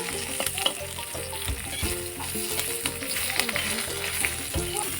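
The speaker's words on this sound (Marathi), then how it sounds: "आता आपली मिरची भाजून झालेली आहे." Green chilies roast on a pan over a village wood-fired stove, giving a continuous close sizzle with scattered crackles and light scraping stirs, no voices.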